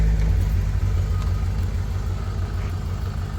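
A Ford Orion with a 1.4L engine and 47,000 miles idles just after start-up, a steady low mechanical hum with even pulsing, close and fairly loud, with no talk.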